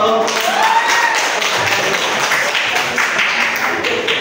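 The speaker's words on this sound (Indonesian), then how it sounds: "Ya, berikan aplaus yang meriah untuk kelompok 3." An audience applauds a performing group with dense, continuous clapping throughout, with a voice briefly audible over it near the start.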